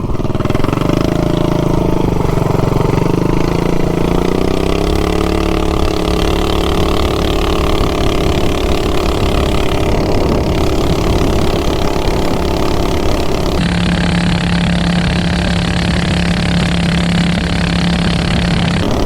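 A 420cc minibike engine with a Volts sprocket runs steadily and loudly close by as the bike cruises down a street, a continuous mid-pitched drone that holds its pitch and shifts to a lower, smoother hum near the end.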